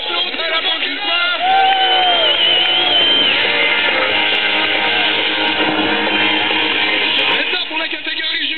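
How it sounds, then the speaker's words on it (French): A large crowd at a competition final cheers and whoops in a loud, continuous roar of voices with some shouting, sustained for several seconds. "on applaudit la banque du coin"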